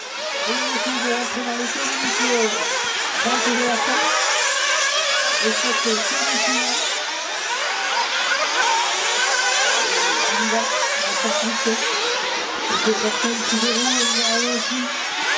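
Small 1/8-scale nitro RC buggies race at a Montpellier Grand Prix, their high-pitched engines whining and rising and falling as the cars pass, with an announcer talking over the din.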